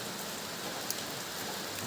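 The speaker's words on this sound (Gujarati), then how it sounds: "ધીમો ધીમો ધીમો ધીમો ચાલુ થયો છે વરસાદ" Light rain patters steadily on surfaces, a soft continuous hiss with faint scattered drops and no voices.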